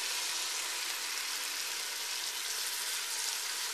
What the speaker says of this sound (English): sizzle noise.